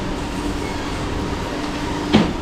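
A Kochi Water Metro ferry arriving at the jetty gives a steady low mechanical rumble throughout, with a brief louder knock or clatter near the end.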